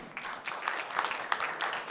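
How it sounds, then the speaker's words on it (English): Audience applause for Professor Bill Mitch as he is introduced at a water talk, a moderately loud mix of many hands clapping with a few sharper claps standing out, steady through the short burst. "Let's give him a round of applause."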